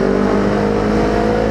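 A Kawasaki Z250 motorcycle fitted with an aftermarket exhaust, loud and close, holds a rough, steady rev with a throbbing low drone.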